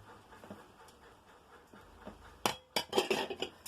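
A spoon clinks and scrapes against a bowl as an aloo tikki mixture with breadcrumbs is stirred, quiet at first, then sharper, busier scraping and tapping near the end.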